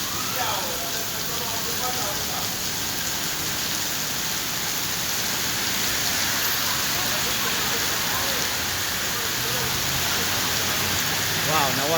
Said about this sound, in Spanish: un aguacero todavía templado, mira.